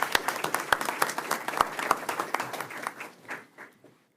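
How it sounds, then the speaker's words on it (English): Audience applause at an evening school board meeting, a small crowd clapping briskly for about three seconds before thinning out and fading. "let's give a round of applause to Aman Chaudhry"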